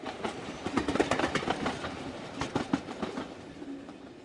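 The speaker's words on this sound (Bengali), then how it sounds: "আমি এসছি এই ট্রেনে, এটা হচ্ছে লোকাল ট্রেন।" A Mumbai local commuter train runs along steadily, its wheels beating out a continuous clickety-clack rhythm with occasional louder rail knocks, close and fairly loud with no talking.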